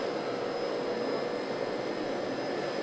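A local cryotherapy apparatus runs with a steady, loud, close rushing hiss and faint high whine, unchanging across the whole short stretch, with no voices.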